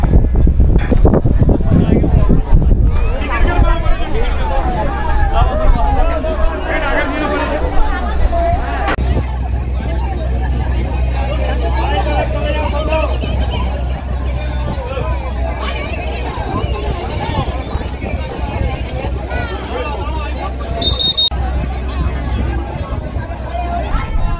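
Dense crowd hubbub and chatter at Gangasagar ghat as passengers board a ferry launch, a steady close babble of many voices with low engine rumble underneath, continuous throughout.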